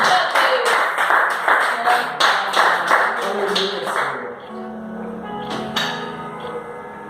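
A Pentecostal church congregation claps in a quick run of sharp, rhythmic handclaps that fade after a few seconds into softer scattered claps, with music and voices underneath.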